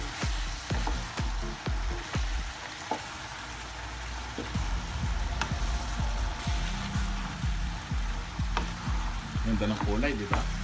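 Potatoes and carrots fry with ground pork in a pan, producing a dense, continuous sizzle and crackle. Frequent rhythmic scrapes of a spatula stirring against the pan run throughout at close range.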